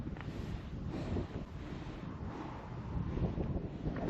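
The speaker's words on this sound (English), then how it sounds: "It's really got windy and the rain is starting" Gusty wind buffets the microphone outdoors beside a lake as the weather turns and rain begins, a steady rushing roar with stronger surges throughout.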